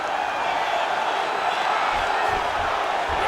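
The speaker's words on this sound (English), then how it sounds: "crowd absolutely loving it as the fighters, however compromised, make their way back to the feet" A steady, loud crowd roar fills an arena during a Khabib Nurmagomedov fight in the video game EA Sports UFC 5, a continuous wash of cheering with a few faint thuds underneath.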